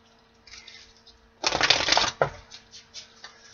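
Tarot cards being shuffled by hand, a dense riffling burst of about a second, close and fairly loud, followed by a short slap and a few faint rustles over quiet room tone.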